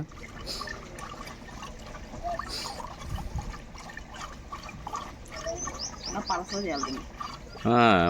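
Water runs into a pot or pitcher, a trickling pour under people talking, with a few bird-like chirps and a louder burst near the end.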